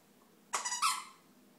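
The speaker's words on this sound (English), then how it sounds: "now he's going to squeak it" A dog squeaks a squeaky toy: one close, sharp double squeak, fairly loud against a quiet background, with no talking.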